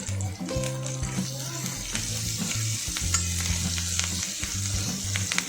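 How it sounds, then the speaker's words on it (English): Garlic paste, mashed tomatoes and homemade black masala stir-fried in a pan for village-style Maharashtrian aamti, a continuous close sizzle with repeated scraping stirs and clinks, over faint background tones. "stir fry the garlic paste, mash tomatoes and 2 tablespoons of black masala made at home"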